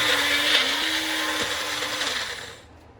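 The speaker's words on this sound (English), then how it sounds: "if you're going to have a blender that you have to press down firmly on the top like this, you have to press and keep pulsing it" A countertop blender runs steadily as it purees Jamaican green seasoning, a loud motor whine with slight pitch dips as the mix shifts, then spinning down and cutting off near the end.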